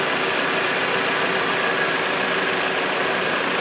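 A Jeep Patriot with crank sensor trouble idles while it warms up, producing a steady, close, fairly loud engine drone and hiss with no variation in pace.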